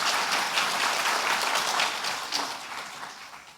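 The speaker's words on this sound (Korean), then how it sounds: "우리 큰 박수로 한 번 더 축복하겠습니다." A church congregation applauds steadily during a service, dense clapping filling the whole stretch and tapering slightly toward the end.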